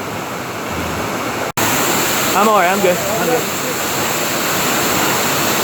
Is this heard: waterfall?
yes